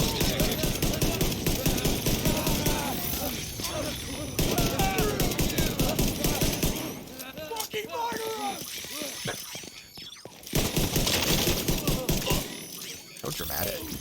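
Enemy gunfire in Division 2 rattles in dense automatic bursts with ricochet clinks and glassy cracks, sustained and loud, while a voice talks over much of it.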